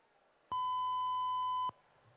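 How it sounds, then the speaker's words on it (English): A single electronic start beep for a school rowing race, one steady clear tone lasting about a second, loud and alone with faint background noise. "the beeping sound of the start has indicated that the 4th year 10/8 event has commenced"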